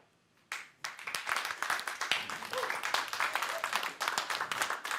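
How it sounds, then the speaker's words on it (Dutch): A crowd breaks into applause after a quiet moment, steady clapping from many hands rising and holding at a moderate level, heard from a distance. "dat klinkt applaus"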